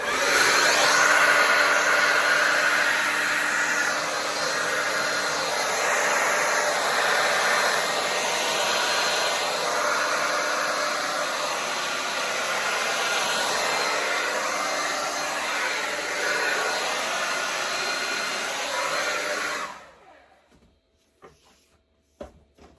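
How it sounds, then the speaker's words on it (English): A hair dryer blows with a steady, loud whooshing whine for about twenty seconds, then cuts off, leaving near silence with a couple of faint clicks. "maybe I could do it with a hair dryer to blow the white on top of it"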